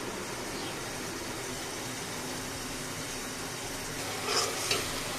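Spices sizzle in a frying pan while a Bengali catfish, potato and tomato curry is cooked, giving a steady, moderate hiss with a couple of brief stirring knocks near the end and no speech.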